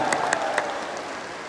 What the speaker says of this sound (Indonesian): Beri tepuk tangan untuk para relawan semua yang hadir.